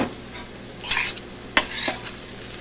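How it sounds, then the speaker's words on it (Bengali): A spatula stirs flattened rice pulao with chopped coriander leaves in a pan, giving a few scraping, rustling strokes over a soft background sizzle. "এবার শুধু একটু ভালো করে নেড়ে চেড়ে দিতে হবে"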